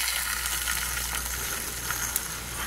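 Toasted chiles slide into a pan of simmering tomatoes, raising a steady close sizzle and bubbling hiss with a few faint clinks, no voices over it.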